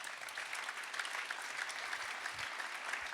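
Steady applause from an audience at an awards ceremony, dense and continuous at moderate level for about three seconds, with no talk over it.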